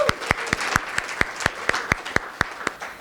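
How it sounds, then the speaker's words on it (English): An audience at a healthcare story slam claps in evenly spaced, sharp bursts for about three seconds. The claps are loud and distinct, with a faint crowd murmur between them. "Big round of applause for Tara."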